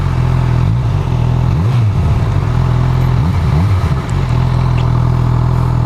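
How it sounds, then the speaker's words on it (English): A 2018 Honda CB1000R's exhaust drones loudly and steadily while riding, a deep engine note that briefly rises and falls with throttle changes before settling back to a constant rumble. "this exhaust sounds amazing"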